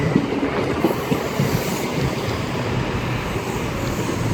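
Train passing at Reading station on the Great Western Main Line, a steady loud rumble and rolling wheel noise with faint rhythmic clatter, continuous throughout with no voices.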